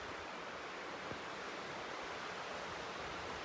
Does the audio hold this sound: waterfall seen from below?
yes